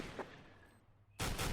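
A Counter-Strike match on de_mirage with gunfire: a faint shot early on, then a loud burst of rapid firing near the end.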